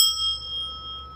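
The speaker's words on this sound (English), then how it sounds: "let's go ring our big bell" A single strike of a large Swiss cast bell rings out with clear sustained tones that slowly decay over a second.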